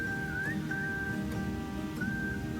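A clear whistled melody from a song, sliding and sustained over soft guitar accompaniment, up front and alone without voices.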